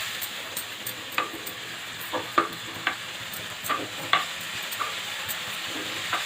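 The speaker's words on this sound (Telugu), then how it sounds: "కడిగి శుభ్రంగా ఇప్పుడు దీంట్లో ఆయిల్లో వేపుకోవాలండి" Dried prawns fry in oil in a pan for a dosakaya curry, giving a steady background sizzle broken by scattered sharp pops and spatters roughly every half second, all close by.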